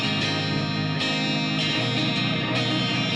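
Electric guitar through an Echo Park delay pedal, sustained distorted chords with repeating echoes and a few sharp new attacks, loud and alone without talk.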